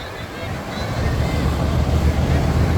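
A boat's engine exhaust runs loud and close on the water, a continuous rumbling roar mixed with wind buffeting the microphone. The boat had been damaged on a buoy.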